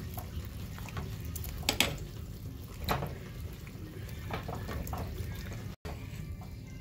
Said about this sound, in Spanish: lo vamos a sumergir bien en el agua caliente y lo sacamos